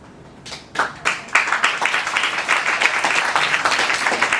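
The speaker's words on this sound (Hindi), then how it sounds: "ये तालियां" A few isolated claps from an audience at a Disha clinic counsellor program event quickly swell into full, steady applause that carries on at a lively pace.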